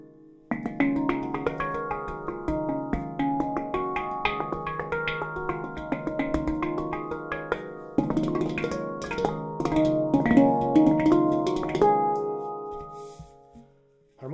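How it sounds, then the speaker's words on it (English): Knuckling on a Yishama Pantam handpan in Eb Amara 17 tuning gives a quick run of soft knocked metallic notes that ring and overlap into a shimmering wash, close and fairly loud, then fade to near silence. "The knuckling sounds really beautiful on this instrument."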